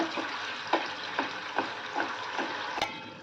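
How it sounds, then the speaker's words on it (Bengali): Fish curry gravy with fried hilsa fish bubbles and sizzles quietly in a pan, a steady soft hiss broken by several evenly spaced pops and a sharper clink near the end, with no voices. "এই ঝোলটা ফুটে উঠেছে"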